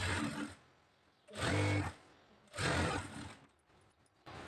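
A sewing machine topstitches the lining of a blouse sleeve in three short whirring bursts, close by, separated by brief pauses.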